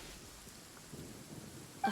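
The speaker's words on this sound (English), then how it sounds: "It's raining again? Oh, this isn't good." Rain in the Genshin Impact video game, a faint, soft, steady hiss with a low rumble and a brief louder tick at the end.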